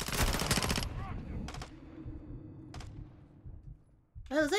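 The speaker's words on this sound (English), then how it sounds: "That guy that was shooting me there" Enemy automatic gunfire in a Call of Duty: Modern Warfare 2 campaign mission, heard as a loud burst of rapid shots at the start followed by a few shorter bursts further off, with a voice breaking in near the end.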